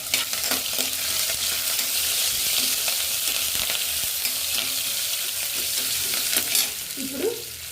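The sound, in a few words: vegetables frying and being stirred in a pan for foxtail millet upma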